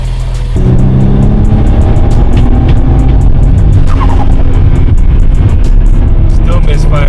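A BMW 335i E90 with an N55 engine runs with a misfire, a loud, close, rough engine drone that continues throughout, with a voice talking over it.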